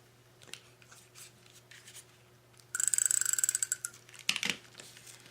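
Scissors cutting a paper card banner in half during Valentine card making, a close crisp run of snipping and rustling in the middle after quiet handling sounds, then a couple of sharper clicks.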